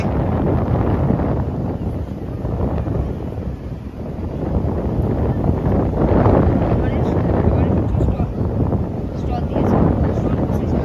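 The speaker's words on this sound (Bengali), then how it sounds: "প্রচুর হাওয়া দিচ্ছে" Strong wind at the Digha river mouth on the seashore buffets the microphone in a loud, steady low roar with gusts swelling and easing, while people talk and a beach crowd murmurs.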